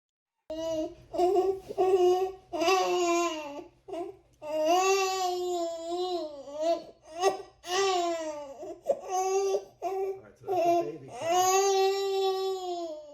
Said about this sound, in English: there was a baby crying in the background